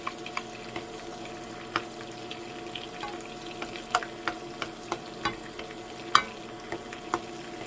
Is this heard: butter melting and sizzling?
yes